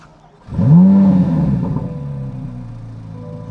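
A 2026 Chevrolet Corvette C8 Z06 engine cranks and fires up with a loud rising roar, then settles into a deep steady idle rumble, close by with no talking.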